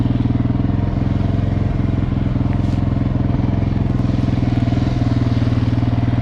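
A Suzuki LTZ400 ATV engine idles and runs close by, a loud, steady, rapid thumping throb that holds evenly throughout.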